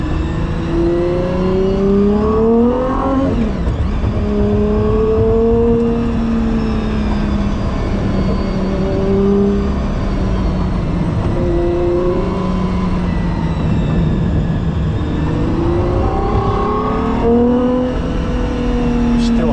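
A Gordon Murray T.50 supercar engine revs continuously with rising and falling pitch sweeps, loud and close, while people talk over it throughout.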